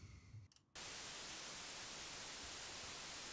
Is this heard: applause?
no